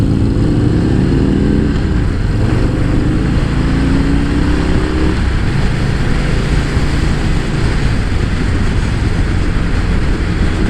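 A 2023 Harley-Davidson Low Rider S motorcycle ridden at a demo day, its engine droning loud and steady with a rising rev early on, heavily buffeted by wind noise throughout.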